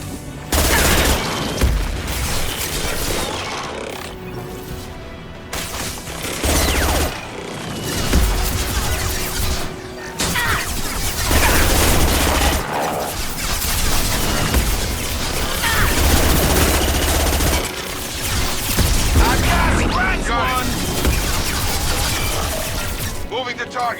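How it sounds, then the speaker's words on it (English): High-impact gunshots and heavy weapon fire in Mass Effect Legendary Edition, loud booming shots and rattling volleys throughout, with characters calling out over the combat. "Firing a high-impact shot."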